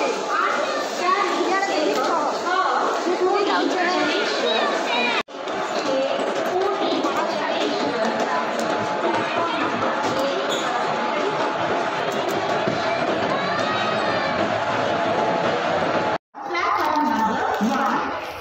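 Dense crowd noise at a busy railway station on a trip to Puri, with constant overlapping voices, children and chatter, loud and steady, briefly cut off twice.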